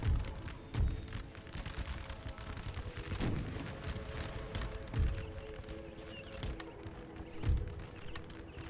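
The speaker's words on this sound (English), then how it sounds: "we're gonna have to handle that with the cannons and musket fire." Distant cannon booms and scattered musket fire thud irregularly through a continuous battle rumble in the video game Napoleon: Total War, with a few louder cannon blasts standing out; no one talks.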